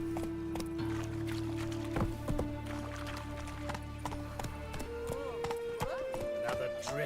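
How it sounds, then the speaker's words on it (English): Hoofbeats of the horse Roach galloping in The Witcher 3 video game, a fast rhythmic clip-clop over game music, with a voice speaking briefly over it. "Run, Roach"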